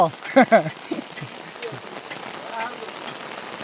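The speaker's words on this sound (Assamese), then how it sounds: "পূৰা ধামাকা বৰষুণ পৰিছে" Steady heavy rain patters continuously in the background while a person talks briefly near the start.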